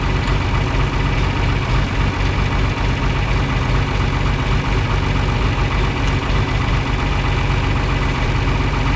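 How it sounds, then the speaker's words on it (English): A steady, rumbling engine idles continuously at close range, low and even throughout with no voices. "get that tractor moved back up to the shed"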